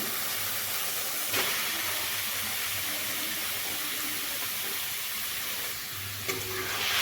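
Grated papaya frying with spices in a pan, a steady broadband sizzle and hiss throughout, with a couple of brief clatters from stirring and no voices.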